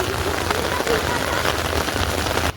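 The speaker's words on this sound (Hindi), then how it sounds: "गाइस आज मैं बारिश में भीगते जा रही हूँ।" Steady, heavy rain pours down outdoors, a dense continuous hiss and patter heard up close by someone walking through it without an umbrella, until it cuts off abruptly at the end.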